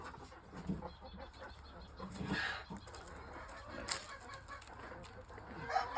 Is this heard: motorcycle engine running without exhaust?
no